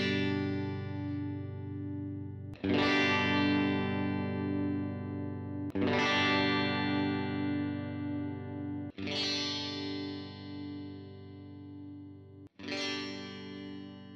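An electric guitar strums four sustained chords through single-coil pickup combinations, each ringing out and fading before the next, heavily processed with a shimmering chorus-like effect.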